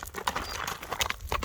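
A small horse at a livestock market is walked on hard ground, its hooves clip-clopping in a quick, fairly close rhythm with several distinct strikes and no voices.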